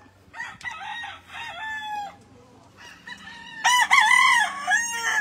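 Gamefowl roosters crow repeatedly on a farm in the Philippines, several long calls overlapping at close and middle distance, with soft clucking and low background hum beneath.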